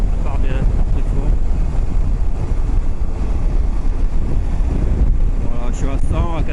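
A KTM 790 Adventure motorcycle pulls away and accelerates hard, its engine roaring under heavy wind buffeting from a helmet-mounted microphone, loud and continuous, while a rider speaks over it.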